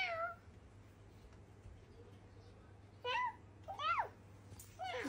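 A young child imitates a cat with several rising and falling meows, close and clear over quiet room hum, spaced apart with short pauses between them.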